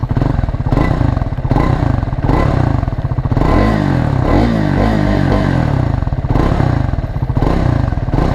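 A loud single-cylinder 2024 Triumph Scrambler 400 X engine thumps nearby with a pulsing, uneven beat, briefly revving up before settling back to a rough idle.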